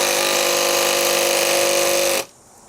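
A Makita CXT impact driver runs hard into pressure-treated radiata pine, giving a loud, steady high-pitched motor whine with a fast mechanical buzz for about two seconds before cutting off abruptly.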